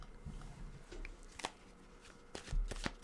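Tarot cards being shuffled by hand at close range, a few quick riffling bursts and soft card slaps spread across a few seconds, with no talking.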